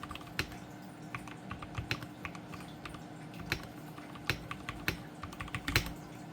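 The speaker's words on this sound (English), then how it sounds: "But we are going to do a little bit of typing." Keys clacking on an Epomaker x Gateron mechanical keyboard in steady, close typing, with crisp individual keystrokes at an uneven pace and no talking.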